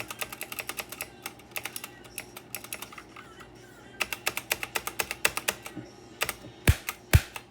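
Keystrokes on a Black Shark gaming keyboard, with bursts of clicky taps in quick runs, a brief pause, then more typing ending in two heavy, loud spacebar-like strikes, close and alone.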